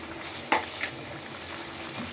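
Masala vadas fry in hot oil in a pan with a steady soft sizzle and a couple of brief sharper pops as batter drops in.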